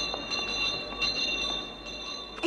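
A passenger train heard from on board, with a steady rumble of railroad cars and tonal wheel squeals ringing over the top for a couple of seconds, no talking.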